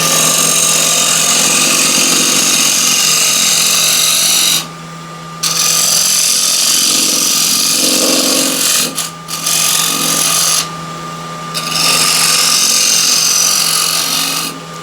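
A wooden bowl spins on a lathe while scrapers cut it, giving a loud, continuous harsh scraping rasp over a steady motor hum, broken by several brief pauses as the tool lifts off.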